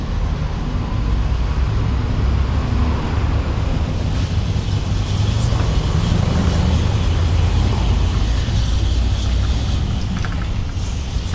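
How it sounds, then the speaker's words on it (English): An eVox City e-bike rattles while riding at a higher assist level, with loud, steady broadband rumble of rolling and wind noise throughout and no talk. "And that's the rattling I was talking about."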